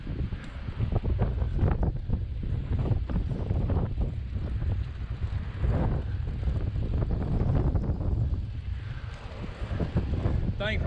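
Hard crosswind buffets the microphone on the open Salisbury Viaduct near Meyersdale, Pennsylvania, a loud steady rumbling roar that runs throughout with gusty surges.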